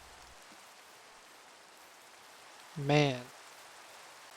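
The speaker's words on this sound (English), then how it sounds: "Of all the times, it has to be raining." Rain falling in the Minecraft video game, a steady soft hiss filling the scene while someone briefly speaks over it.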